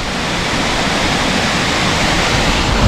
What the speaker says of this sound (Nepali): भिजायो झर्नाले यार